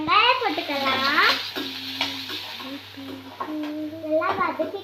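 Onions sauté in a pan with cinnamon, bay leaf and cloves for a kurma while a spoon stirs them. A soft sizzle and stirring scrape run under a child's and an adult's voices talking throughout.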